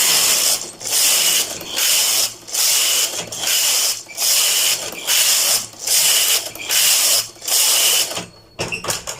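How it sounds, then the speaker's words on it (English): Domestic knitting machine's main carriage pushed back and forth across rows, a loud mechanical whirring rasp repeated in about nine steady passes, each stroke separated by a brief pause, close up. "10 rows of the main carriage again"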